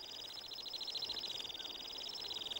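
A Temminck's stint calls over open Arctic tundra, a rapid high trilling song repeated continuously in a fast pulsing run, clear and steady against a quiet windy background.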